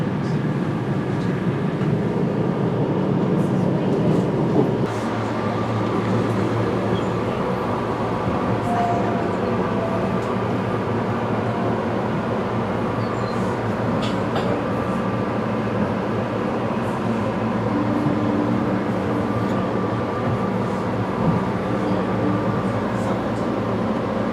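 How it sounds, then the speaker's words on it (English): A West Trenton line local commuter train rumbles along in a steady, loud, continuous drone heard from inside, with faint rattles and brief clanks over the low roar and no clear talk. "This West Trenton line local train goes to West Trenton"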